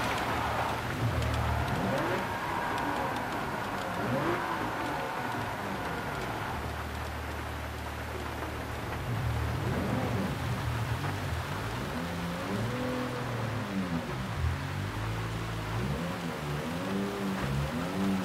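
Rain falls in a Gran Turismo 7 race, a continuous hiss of spray and water on the track mixed with the droning and shifting pitch of race car engines.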